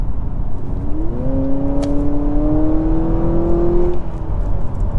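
A 2023 Honda Accord Sport Hybrid accelerates hard to overtake, its engine rising in a smooth, loud whine as the pitch climbs for a few seconds over steady road and wind noise, heard from inside the car.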